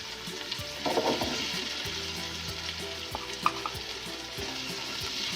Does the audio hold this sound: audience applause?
no